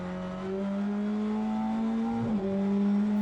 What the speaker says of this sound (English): here in the wet I'm using the clutch to downshift to avoid the front axle locking.